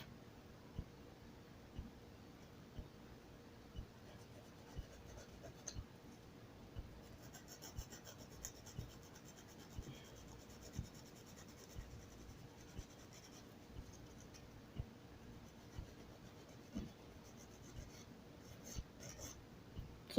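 A nail file scrapes across gel nails in quiet, repeated short strokes, a soft rasping rub with faint ticks, close and low in level with no talk.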